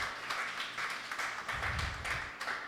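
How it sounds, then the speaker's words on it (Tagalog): Applause from a congregation during a Filipino Sunday worship service, a steady wash of many hands clapping at moderate distance, with a low rumble swelling midway. "Isang malakas na palakpak po sa ating Panginoon."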